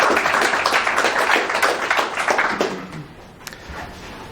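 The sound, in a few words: audience applause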